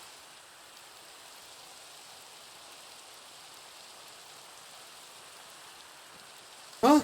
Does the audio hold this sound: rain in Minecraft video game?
yes